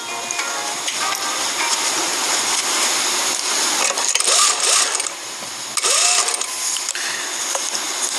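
Sewing machine stitching a shirt collar in a garment workshop, a steady mechanical whir and ratcheting clatter running continuously and fairly loud, with brief louder bursts partway through.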